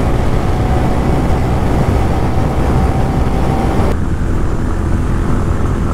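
TVS Ronin and Honda CB 350 RS motorcycles in a drag race, a loud continuous engine roar and wind rush held steady throughout, dropping slightly in brightness near the end as the bikes pass.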